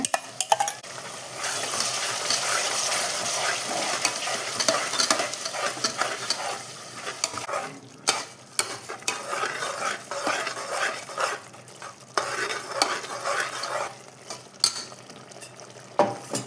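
A thick yogurt masala for paneer biryani bubbles and sizzles in a pan while a spoon stirs and scrapes through it, with irregular clinks and swishes up close.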